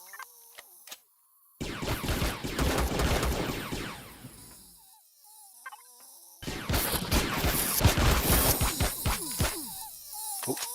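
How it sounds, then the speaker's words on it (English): Turret gunfire in the space game Empyrion, sounding as dense bursts of rapid shots and impacts in two long stretches separated by a quieter gap, loud and close with clattering mechanical detail. "Oh, that's a turret."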